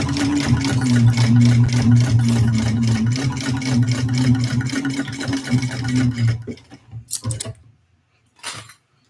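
A sewing machine stitches a Victory Bowler Bag with a fast, steady close mechanical whir and rapid needle clatter for about six seconds, then stops, followed by a few brief handling rustles.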